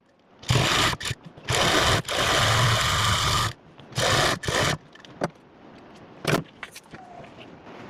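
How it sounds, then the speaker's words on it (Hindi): A sewing machine stitches a corner seam on a ladies' suit collar, running in several loud bursts of steady whirring separated by short pauses, then a few brief clicks and handling knocks as the fabric is turned. "यहाँ पे इसके चारों तरफ आपको कॉर्नर वाली सिलाई लगानी है"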